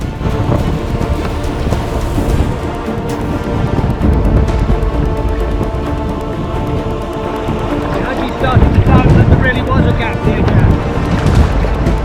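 Loud wind gusts buffet the microphone while kayaking around Scotland's Slate Isles, a continuous heavy roar with rumbling surges that grow stronger toward the end, with a voice speaking underneath.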